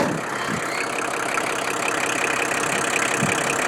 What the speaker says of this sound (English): Got a 4-cylinder Kubota diesel engine.